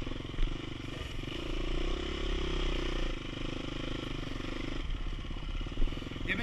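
A motorcycle rides in first gear, giving a steady, fairly loud engine drone with wind roar and light mechanical clatter, and brief surges where the engine pulls.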